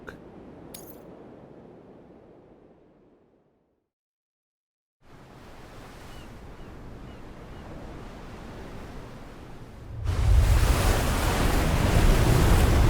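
Ocean surf washing and rushing in Death Stranding during a water crossing, a broad steady wash that fades to near silence, returns, then swells much louder and closer for the last few seconds.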